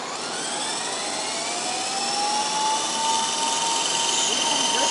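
A radio-controlled helicopter engine whines at high pitch during a throttle test, rising steadily in tone and holding a constant buzzing drone throughout.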